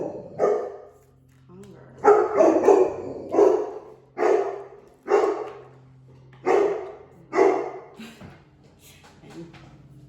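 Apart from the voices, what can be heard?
dog barking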